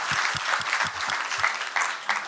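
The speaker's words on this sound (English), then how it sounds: "So really a big applause," Applause at an Iftar dinner in Brussels for the organizers, a short burst of steady clapping from a room of guests, fairly close, with a faint voice underneath.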